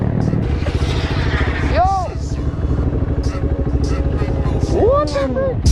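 A two-stroke off-road 150 motorcycle revs outdoors, its buzzing engine climbing and falling in pitch with sharp throttle blips, while someone shouts over the noise.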